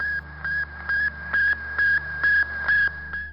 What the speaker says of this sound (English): The sound you just heard was Sputnik I.